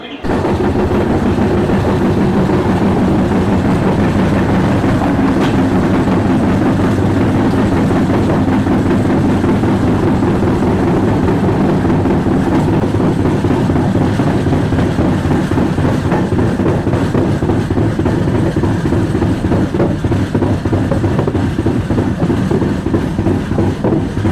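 A loud, steady rumble of a moving express train rounding a curve, with rhythmic clattering of wheels on the rails, continuous throughout.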